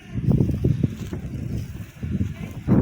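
Wind blowing in the countryside of a Russian village, buffeting the microphone in gusty low rumbles that rise and fall, with no one speaking.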